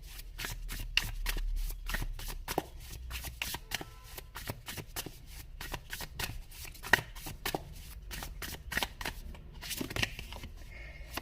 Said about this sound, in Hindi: ओके, कुछ कार्ड्स और निकालते हैं।